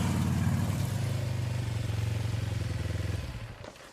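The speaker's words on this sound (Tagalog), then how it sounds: "Pinuntahan ko ang nakaparada kong motor at sinakyan ko yon." A parked motorcycle starting off, its engine loud and close with a steady rumbling, chugging idle that drops in level toward the end, no voices over it.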